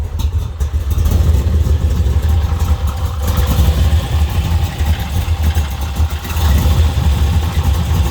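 A 1950 Chevy Styleline Deluxe resto-mod with a 502 crate roller engine runs steadily, its deep, loud rumble close and continuous with slight surges in level and no talking over it.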